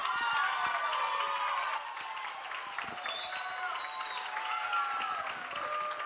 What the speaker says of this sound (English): I know this cheer is for you